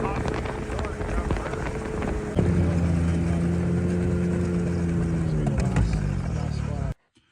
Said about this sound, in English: while my truck's been warming up